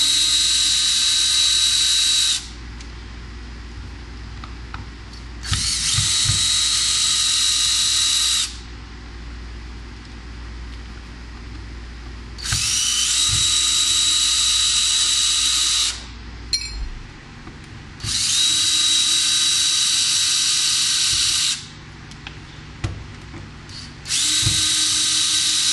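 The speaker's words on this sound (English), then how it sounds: "It's pretty much just unscrewing everything and taking it off." A power drill backs screws out of an electric guitar body during disassembly, heard as five loud whining bursts of several seconds each, separated by short quiet gaps with faint handling noise.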